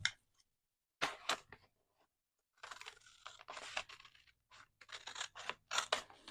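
Scissors trim paper for envelope pockets in close, quiet snips, with a couple of isolated cuts followed by a quicker run of crisp snipping and shuffling.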